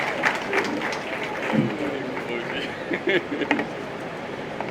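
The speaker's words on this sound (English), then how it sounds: "Please give a resounding applause as I make welcome on stage Mr. Tony Elumelu" An audience applauds at the launch event for Lagos's N500bn produce guarantee fund, and the clapping runs steadily under an announcer's voice over a public address system.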